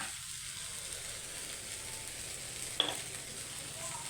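Broad beans and egg frying together in a pan with salt, a steady soft sizzle running throughout, close and moderately quiet, with one brief sharp tick partway through and no talking.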